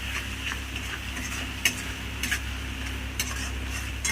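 Pointed gourd mashed with shrimp paste is stir-fried in a pan, giving a low continuous sizzle with a spoon scraping and occasional light clinks against the metal, close and without talk.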